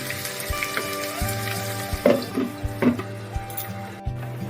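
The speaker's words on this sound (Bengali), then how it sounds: "ঢাকাটা তুলে আলুটা নেড়ে চেড়ে ভেজে নেব।" Potatoes fry in a pan with a moderate sizzle, broken by a few sharp clinks and scrapes as they are stirred, close and without speech.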